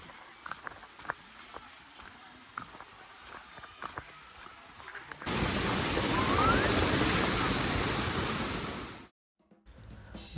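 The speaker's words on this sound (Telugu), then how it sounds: "Welcome to Amruthadhara water falls." Amruthadhara waterfall near Maredumilli, reached by about 200 steps: quiet footsteps and faint outdoor sounds first, then a loud, steady rushing roar of falling water for several seconds before it cuts off abruptly.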